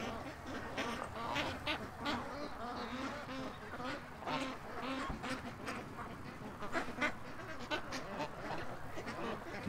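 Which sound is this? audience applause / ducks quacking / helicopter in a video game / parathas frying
ducks quacking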